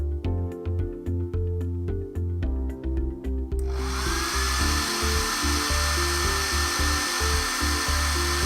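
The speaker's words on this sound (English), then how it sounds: "switch on my hair dryer" Background music plays, then a hair dryer switches on partway through with a steady, close, whooshing roar and a high whine that keeps running.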